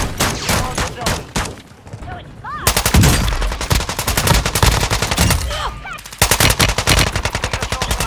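TR-76 rifle fire in Call of Duty Warzone 2.0 rattles in loud, rapid automatic bursts, close and sharp, with a brief pause between long strings of shots.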